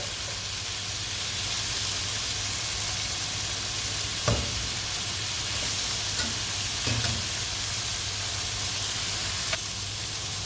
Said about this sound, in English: still cooking down my Ampalaya and onions and ginger